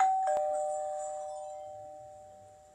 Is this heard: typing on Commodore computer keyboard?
no